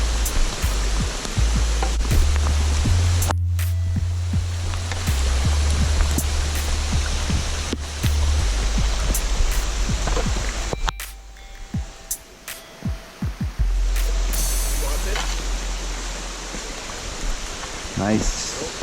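River water rushes loudly at a hiking trail crossing on a rainy mountain trail, a broad steady roar close by, with brief bumps and handling noise partway through.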